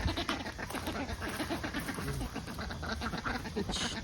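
Ducks in a duck yard after Hurricanes Helene and Milton raise a loud, continuous chorus of overlapping quacks at close range, busy and unbroken throughout.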